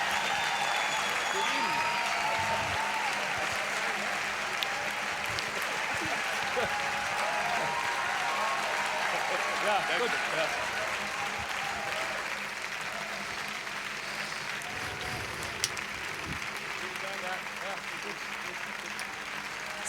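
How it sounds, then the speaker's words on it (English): Long, steady applause from a standing conference audience, a broad continuous wash of many hands filling the hall, with voices speaking over it at times. "please stand up and give an applause for everybody who is taking part of this and making it"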